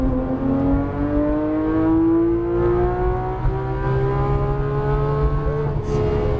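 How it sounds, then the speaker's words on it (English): A Porsche 993 GTS RS accelerates at full throttle on a race track, its engine note climbing steadily in a loud, rising harmonic whine from inside the car, with no talk over it. "look at you after the straight, and full throttle"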